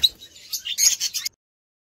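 Pet birds kept in a home breeding setup, including opaline parrot pairs, chirp in a quick run of bright, high tweets lasting just over a second, close and fairly loud, with no talking.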